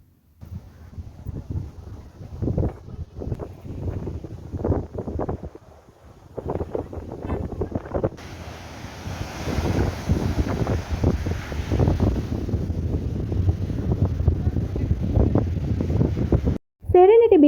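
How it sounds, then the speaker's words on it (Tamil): On Serenity Beach in Pondicherry, strong sea wind buffets the microphone over a low, steady rumble of ocean surf. A voice talks intermittently beneath the roar. "பீச்சோட ஒரிஜினல் சவுண்ட்ஸ் இப்போ நான் உங்களுக்கு ஆட் பண்ணுறேன்"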